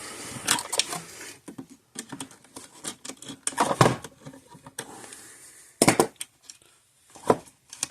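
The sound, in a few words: loosening nuts on an old Speedrite electric fence charger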